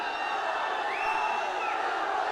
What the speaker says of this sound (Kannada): ನಿಮ್ಮ ಕೂಗು, ನಿಮ್ಮ ಮಾತು, ನಿಮ್ಮ ನಗು, ನಿಮ್ಮ ಚಪ್ಪಾಳೆ